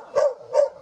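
Two short, sharp dog barks close by, spaced about half a second apart.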